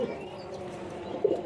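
Domestic pigeons of the deshi and giribaz breeds coo softly at close range in a loft holding nesting pairs, with one slightly louder coo near the end over a steady low background murmur.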